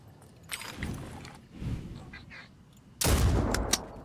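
Laser weapon firing in the video game Phoenix Point, a few bursts of zapping shots with quieter gaps, ending in one loud, sharp blast near the end.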